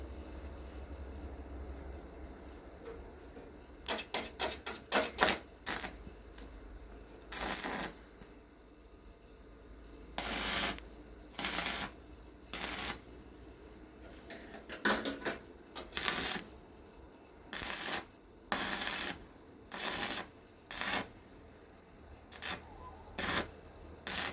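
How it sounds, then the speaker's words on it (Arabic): A metal leg being welded, heard as a series of about a dozen short, sharp crackling bursts separated by brief pauses, close and fairly loud against a quiet background. "كده لحمنا رجل، نلحم الرجل التانية"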